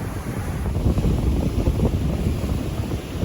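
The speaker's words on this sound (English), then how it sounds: "the wind's probably blowing 10 to 15 now" Strong gusty wind buffets the microphone on a beach at New Smyrna Beach while surf fishing, a continuous loud low rumble with surf in the background and no voices.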